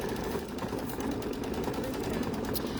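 An embroidery machine stitches out a pumpkin-shaped in-the-hoop utensil holder, a steady rapid mechanical chatter of the needle running continuously at moderate volume.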